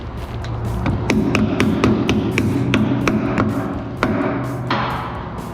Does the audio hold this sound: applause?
no